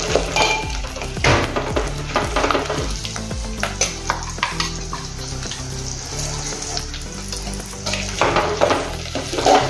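Ground spice masala dropped into hot oil already crackling with cumin seeds and asafoetida for stuffed brinjal, bursts of loud sizzling alongside the scrape and clatter of a spoon stirring in the pan.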